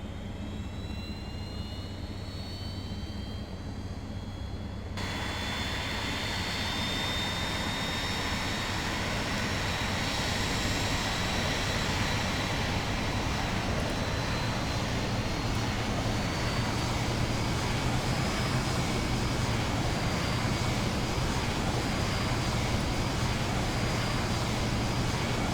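An Airbus A320 in a flight simulator has its APU running and engines spooling up, a continuous loud jet roar with a rising whine that grows fuller after a few seconds and holds steady.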